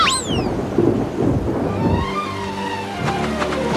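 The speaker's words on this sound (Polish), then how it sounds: "prędko schowajcie się i przeczekajcie burzę u mnie" A thunderstorm breaks with deep rolling rumbles and crackles over a rain-like wash, mixed with some sweeping tonal effects in the background, all in one short burst.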